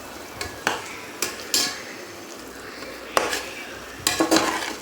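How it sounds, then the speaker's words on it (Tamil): Mushrooms stirred and mixed in a pan for a mushroom biryani, with a spoon scraping and clinking against the pan in irregular close knocks over a soft background sizzle. "இந்த காளானோட நல்லா இதை வந்து மிக்ஸ் பண்ணி விட்டுறலாம்"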